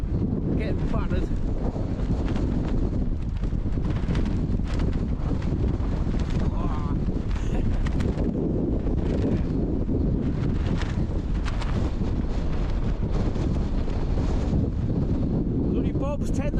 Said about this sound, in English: It's pretty windy, on and off all night for sleep.